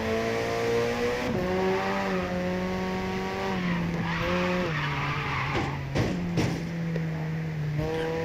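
Japanese Drift Master cars on PS5 hold steady engine drones that step down through gear shifts. Tire squeal and skidding bursts cut in near the end, all loud and without talk.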